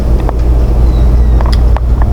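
Strong wind buffets the microphone with a constant low rumble, broken by a few faint knocks and rustles.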